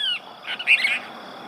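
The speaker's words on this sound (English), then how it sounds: "We just hear his singing." A small American goldfinch sings in shrubby meadow habitat, giving a brief, bright series of high chirping notes heard alone at moderate distance for about a second.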